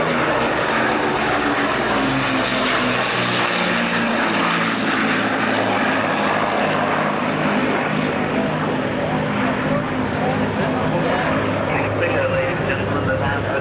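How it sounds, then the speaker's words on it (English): Avro Lancaster bomber's four propeller engines drone loud and steady at the 1991 RAF Valley air show on Anglesey, a thick continuous roar filling the whole stretch while a voice speaks faintly underneath. "See the Lancaster."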